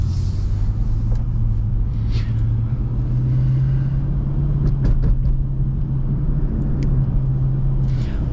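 Steady low engine rumble from a 2008 Lexus IS-F with over 111,000 miles, cruising and making a U-turn onto Pacific Coast Highway, heard from inside the car with a few faint clicks and no talking.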